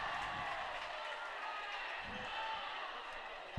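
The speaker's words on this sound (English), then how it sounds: "Bison crowd getting loud." A high school boys basketball crowd at a gym keeps up a steady roar through a free throw. Sneakers squeak and a ball bounces now and then, and at the very end a sharp thump cuts through.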